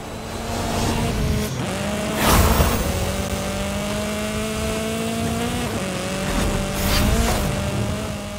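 A Mercedes-Benz AMG GT4 driven in a video game hums with a steady engine drone and shifting pitch, brief louder surges and gear changes cutting in, no talk over it.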